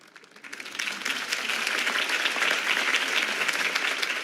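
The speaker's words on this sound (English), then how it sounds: "If only Mr. Wayne, my campaign's largest backer, could have heard that applause" Crowd applause after Harvey Dent's campaign speech in the video game Batman: The Telltale Series, swelling from a few claps into a steady, dense wash of many hands that holds to the end.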